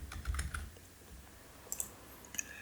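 Typing on a computer keyboard, a brief burst of quiet key clicks at first, then a pause and a few scattered taps, close and faint.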